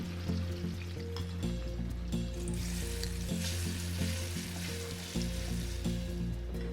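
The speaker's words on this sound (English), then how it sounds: "Pour into a deep pan enough oil for deep frying and preheat the oil. Once it is hot, add in your plantain cubes." Cubes of plantain deep frying in hot oil give off a steady bubbling sizzle, with occasional stirring clatter and background music throughout.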